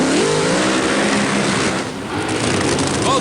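Two Top Fuel dragsters of about 3,000 horsepower each do a tire-heating burnout at the 1986 NHRA US Nationals, a loud, continuous, saturated engine roar with a brief dip midway.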